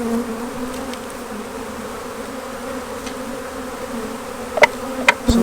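Honey bees shaken out of a nuc box while being transferred into a Maisemore commercial poly hive hum in a steady, dense buzz, with a few sharp knocks near the end.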